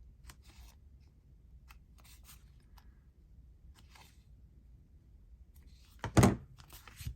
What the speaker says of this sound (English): First of all, I'm going to snip my corners.